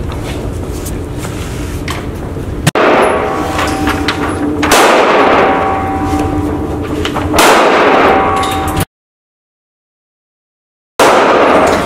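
Glock pistol shots at a shooting range, two loud sharp cracks with ringing decay, close up, followed by a cut to silence and a short return of range noise.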